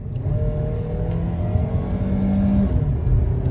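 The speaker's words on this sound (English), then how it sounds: "Listen to this thing rev up and take a look at that speedometer." Chrysler 200 engine revving hard under full-throttle acceleration after a check engine light was cleared, a steady loud drone with rising harmonic tones throughout, no talking.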